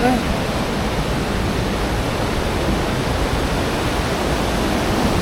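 Curug Cilaki waterfall pours with a steady, dense rushing roar that stays even and unbroken throughout, close and enveloping.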